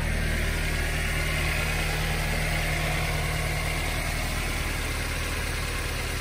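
A 2002 Mazda Miata Special Edition engine idles with a smooth, even rumble, quiet and steady throughout, with no lifter noise, revving or voices.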